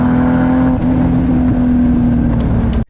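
A Toyota Supra in Car Trek, its engine roaring loud and steady with a strong droning tone, holding high revs before cutting off abruptly at the end.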